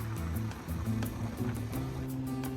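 Water rushing from the Naushehri power project spillway into the Neelum river after passing through large turbines, a steady broad roar of churning water, close and continuous.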